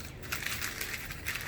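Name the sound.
crumpling newspaper for paper mache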